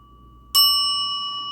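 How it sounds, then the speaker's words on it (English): A single bright bell strike rings out sharply, leaving a clear sustained tone that slowly fades over the rest of the moment, alone against a quiet background. "Let's ring the bell to cleanse the energy and bless my channel"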